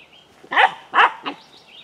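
A dog barks nearby, two loud barks and then a softer third, and birds chirp faintly in the background.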